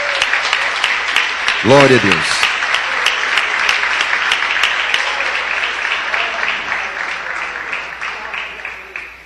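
Church congregation clapping together in praise, a steady dense applause that fills the room while a voice speaks briefly over it early on.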